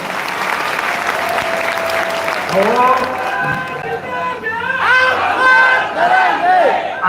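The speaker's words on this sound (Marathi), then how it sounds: "टाळ्या वाजव जरा" A crowd at a birthday celebration gathering applauds a speech with loud, sustained clapping, while voices shout and cheer over it and the cheering swells toward the end.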